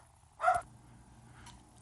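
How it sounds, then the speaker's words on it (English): Indoor dogs bark: one sharp, fairly loud bark, then a fainter yip about a second later, over a quiet room. "Sorry about the dogs."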